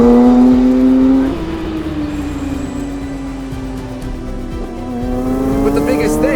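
A 2024 Porsche 911 S/T engine pulls loudly up through the revs, with a gear shift after about a second, then builds steadily again under a clear, rising engine tone.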